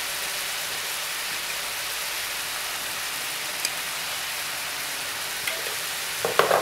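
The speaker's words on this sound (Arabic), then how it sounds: "يتقلى مليح حتى يذبل لنا كاع البصل ويتقلى مليح" Onions fry in a pan with tomato paste and spices, giving a soft, even hiss of sizzling throughout, with a few faint clicks and a brief clatter of a utensil near the end.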